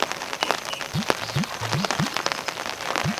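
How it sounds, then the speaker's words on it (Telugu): Steady rain patters on a surface, a dense continuous hiss with a few short rising chirps scattered through it. "వాన ఎక్కువ అవుతుంది"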